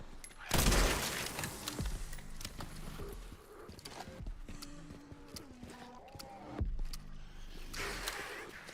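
A gun with a barrel upgrade in Resident Evil Requiem fires a loud blast, followed by scattered impacts and clatter, then another heavy shot near the end, with brief speech mixed in.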